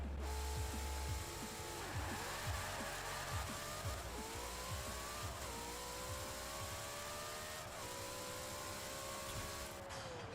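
A 1900HP drag Mustang in Forza Horizon 4 launches and screams through a run of rapid upshifts. A deep rumble at the start gives way to a loud, rising engine whine broken by repeated shift drops, with no talk.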